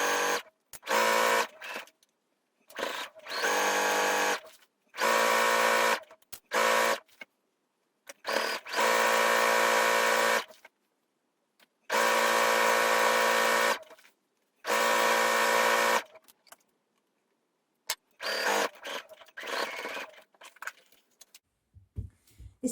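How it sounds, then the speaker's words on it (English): Sewing machine stitching a folded quarter-inch hem on a tee sleeve, running in repeated bursts of steady whirring separated by short pauses, close and clear with no talking. "and then you can sew around there as well."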